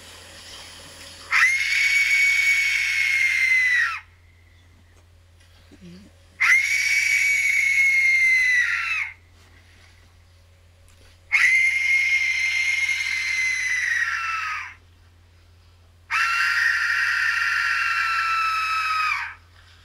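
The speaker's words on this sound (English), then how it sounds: "this is a whistle of death. This is a skull-shaped whistle." A skull-shaped death whistle is blown in four long, loud, harsh screeching blasts of about two and a half seconds each, separated by short pauses with a steady low hum underneath.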